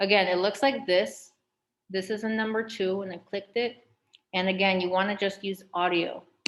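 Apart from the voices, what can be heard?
No distinct noise like a dog, phone or traffic.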